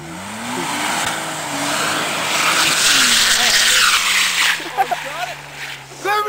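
Rear-wheel-drive BMW doing a burnout in a blizzard, tires squealing and engine droning steadily up close, with shouting voices and short squeaks toward the end.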